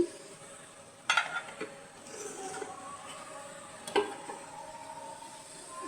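Small young prawns frying in a pan, a soft, fairly quiet sizzle running throughout, with a couple of brief clanks from the utensil against the pan.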